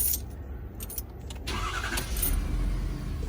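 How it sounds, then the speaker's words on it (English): A 2017-2019 Ford F250 pickup truck's engine cranks and catches, rising into a steady, loud mid-pitched idle after a brief quieter stretch with light key or cabin rattles. "I think I have to turn the truck on."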